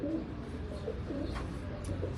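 Pigeons cooing in a loft of striped and striped-cross breeds, soft repeated coos close by over a steady low rumble of background noise, with no talk.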